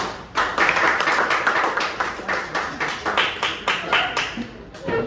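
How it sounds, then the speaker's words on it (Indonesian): A group of students clap their hands together in a classroom presentation session, steady bursts of close, moderately loud clapping running throughout with a faint hum behind it. "tepuk tangan dulu"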